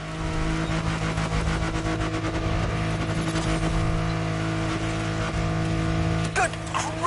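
A car racing at full speed downhill in The Crew Motorfest on PS5, its engine roaring steadily and loudly throughout with a dense, continuous drone and a brief louder burst near the end.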